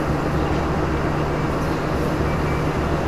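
A steady, loud rumble of an Indonesian commuter train from Bogor rolling along the rails into Jakarta Kota station, with a low continuous drone and no voices.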